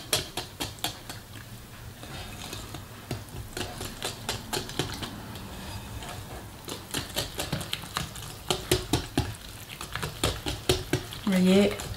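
A spoon stirs flour into a batter mixture in a bowl, giving a run of quick, rhythmic scraping and tapping strokes that sound close and fairly loud, with a voice speaking in places.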